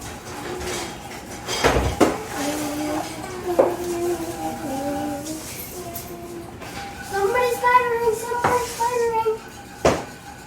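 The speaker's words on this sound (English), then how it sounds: "So I'm just going to constantly stir it to make sure that it dissolves completely" A spoon clinks and scrapes against a metal pot of boiling water while dissolving sugar, in irregular knocks, with a few sharper clanks and a voice talking between them.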